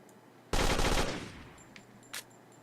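Gunfire from the video game Second Warfare: a loud rapid burst lasting about half a second, followed by a few faint clicks and one short sharp report, with no voices.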